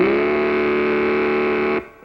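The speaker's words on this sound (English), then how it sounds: "you can make it roar with Mattel's terrific new Baroom hot rudder engine" Mattel's Baroom toy hot rod engine, clipped onto a child's tricycle, roars as a steady, loud, buzzing drone with a distorted edge. It holds for nearly two seconds, then cuts off abruptly.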